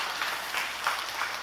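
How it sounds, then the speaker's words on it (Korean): Church congregation applauding to welcome visiting pastors and women's mission society members, a steady wash of clapping at moderate level, with slight swells but no break. "우리 서로 박수로 환영해 주시겠습니다."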